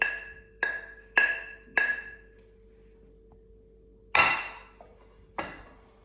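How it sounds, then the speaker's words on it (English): A utensil knocks against a bowl while grated apple is scraped into a bowl of glop, about six sharp, ringing clinks with pauses between them in an otherwise quiet room. "Next, add the grated apple into the glop. Make sure to get all of it in."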